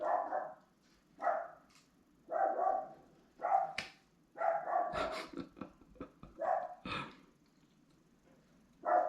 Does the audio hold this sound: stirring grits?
no